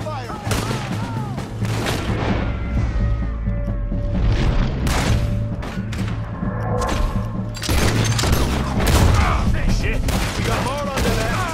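Gunfire in a shootout in the video game Red Dead Redemption 2, dense rapid volleys and booming shots cracking continuously at close range, with a voice calling out briefly over the fire.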